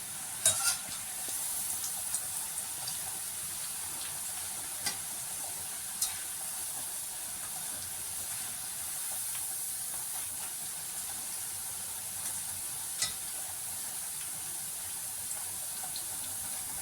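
Boondi batter frying in hot oil as a continuous high bright sizzle, with a few faint clicks and scrapes throughout, steady and close with no talk.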